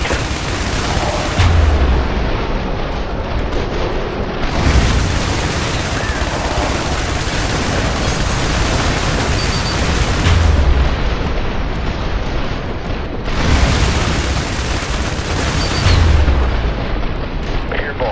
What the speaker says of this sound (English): Artillery support. Standing by. Airstrike.